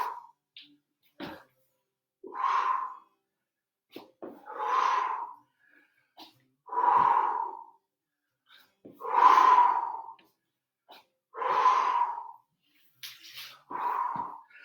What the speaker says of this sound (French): On accompagne bien sûr de la respiration.